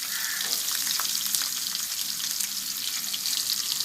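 Small shallots and sliced large onions sauté in hot oil as a steady, close-up sizzling hiss. A few stirring clicks break the even frying sound, and no one speaks.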